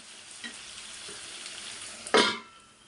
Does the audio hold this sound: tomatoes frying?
yes